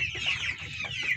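Plymouth Heritage rooster with yellow legs clucking close by, a short run of a few quick throaty clucks.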